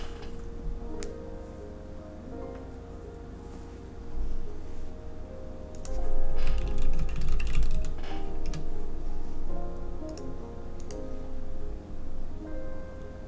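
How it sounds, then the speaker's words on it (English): Keys clatter on a computer keyboard in irregular bursts of soft clicks, close by, with a steady low hum underneath and no talking. "oh, looks like you hit the insert key on your keyboard."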